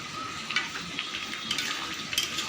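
Fried potatoes are stirred into cooking chicken in a pan, giving a quiet, steady sizzle broken by soft stirring scrapes and light clinks, heard close and without speech.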